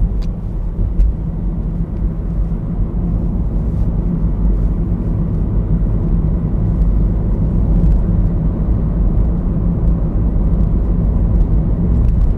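Steady road rumble fills the cabin while driving through heavy car traffic, a constant low drone with occasional faint ticks and no talk.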